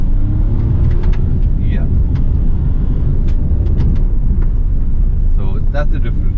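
A 2021 Hyundai i20 N-Line under about 30% throttle in S mode gives a constant low cabin rumble of engine and road noise, close and steady, with a voice speaking briefly over it.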